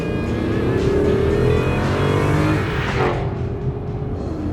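A 2023 Chrysler 300C with an American V8 accelerates hard, its loud engine note climbing steadily through the gears with a brief shift dip near the end, close and continuous with no talking.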